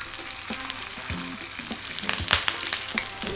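Halved garlic cloves and bay leaf sizzle in a hot steak frying pan, giving a continuous crackling hiss that swells louder partway through, with a few soft clinks.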